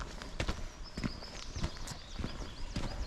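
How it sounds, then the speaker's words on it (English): Horses walking outdoors on a forest walk, hooves clip-clopping in an uneven, fairly close rhythm over a breezy background. "There's a couple of horses over there."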